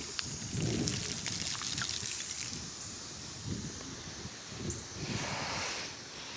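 Tanqueray gin pours out of a bottle in a steady, faint trickle, with splashing that varies slightly and no talk.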